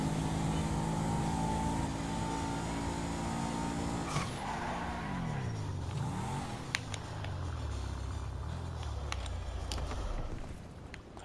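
An old car's engine in GTA 5 drones steadily on a straight as it accelerates. The tone shifts through a couple of gear changes, and a few faint clicks sit under the continuous motor hum.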